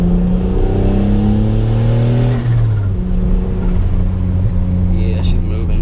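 A turbocharged 2006 Honda Accord with a J32A3 engine and Turbonetics 6968 turbo accelerates hard, heard from inside as a loud engine tone that climbs through the gears with brief drops at each shift, and someone speaks over it.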